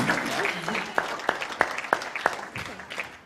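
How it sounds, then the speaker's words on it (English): Scattered audience clapping at the 2023 Queensland Australian of the Year Awards, with a few distinct claps standing out in a regular rhythm, fading slightly toward the end. "keep that applause going, won't you, for Auntie Delma Barton"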